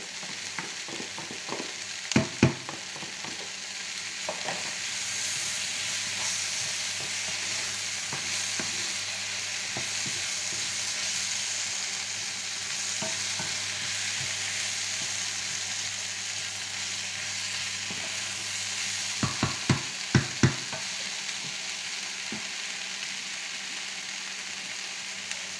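Leeks frying in a pan while cooking beef bourguignon, a steady bright sizzle throughout with a few sharp clinks and scrapes of stirring near the start and again later.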